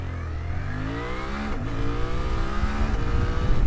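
A 2025 Suzuki V-Strom 800RE motorcycle with a quick shifter accelerates hard in full power mode with the lowest traction control. Its engine note climbs steeply, cut by two crisp upshifts, and then keeps rising close and loud.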